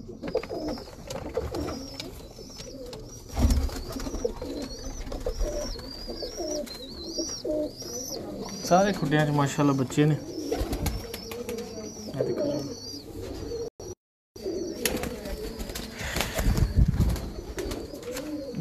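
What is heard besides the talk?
teddy pigeons cooing in breeder's loft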